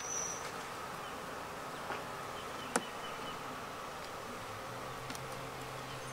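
Honeybees buzzing around an open hive during inspection, a soft steady hum throughout with a couple of faint clicks.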